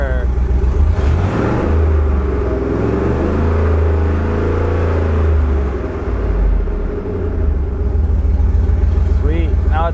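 A Toyota 80 Series Land Cruiser with an LS engine swap cranks and starts, then runs loud and rumbling with one exhaust downpipe disconnected, a steady heavy idle with some revving, mostly alone without talk.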